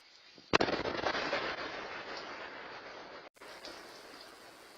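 A house explosion in northwest Austin, heard from a backyard two streets away, arrives as a sudden loud boom followed by a long rumbling roar that fades slowly, then cuts briefly and continues as a softer outdoor rumble.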